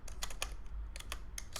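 Quick keystrokes on a computer keyboard, a brisk irregular run of about ten clicks with short pauses, close and clear with no talk.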